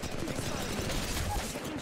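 Rapid bursts of gunfire in Apex Legends Mobile, a dense rattling stream of shots that stays steady and fairly loud for the whole short stretch.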